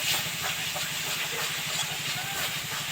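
Whipped sour curd hits frying masala for a pangas fish curry, setting off a loud, steady sizzling hiss that continues evenly throughout, close to the pan.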